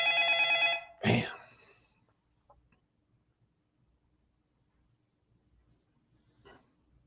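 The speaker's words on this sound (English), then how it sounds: "Somebody pick up the phone." A telephone rings unanswered in one short electronic burst, followed by a sharp, squawk-like sound that fades into near silence, with a faint blip near the end.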